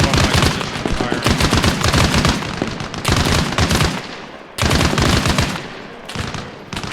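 Machine gun firing in the video game Arma Reforger, loud close sustained automatic bursts of rapid shots, several long strings separated by brief pauses.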